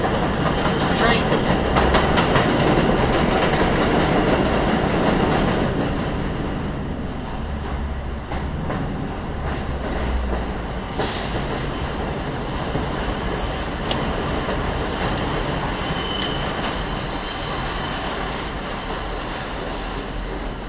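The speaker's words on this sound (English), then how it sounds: "There's the train." Train rumbling along an elevated trestle in the Longwood section of the Bronx, a steady loud rolling roar with faint wheel squeal that eases slightly over twenty seconds, with a voice briefly heard over it.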